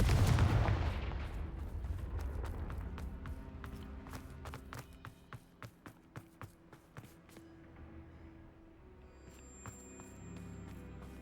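A Confringo fire spell from Hogwarts Legacy erupts in a loud, booming blast that decays into a long rumble, followed by a train of sharp, evenly spaced crackling pops that fade away.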